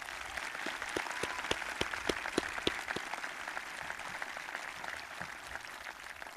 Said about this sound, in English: I'd like everyone to give a quick round of applause to those seniors